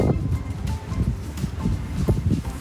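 Gusty wind buffets the microphone, a low rumbling rush that swells and fades unevenly throughout.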